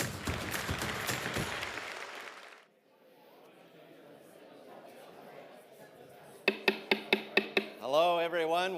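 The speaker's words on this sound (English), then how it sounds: "That deserves clapping." A crowd at a live art auction applauds loudly for about two seconds, followed by quiet room murmur, then a sharp series of rhythmic percussive hits and a voice.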